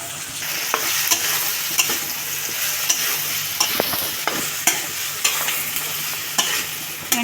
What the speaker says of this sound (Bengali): নেড়ে চেড়ে মিক্স করে নিচ্ছি।